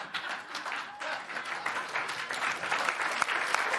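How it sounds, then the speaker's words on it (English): Studio audience applause on a late-night comedy talk show, a dense, sustained wash of clapping from a crowd, moderately loud and continuous. "This might be the first time in history that anybody has applauded something as disgusting."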